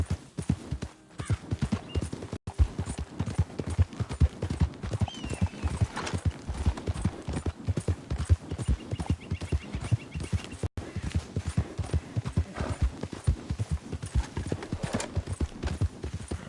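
Horse hooves clip-clop at a steady galloping rhythm in Red Dead Redemption 2, close and continuous for the whole stretch, with a brief whinny and a pause partway through.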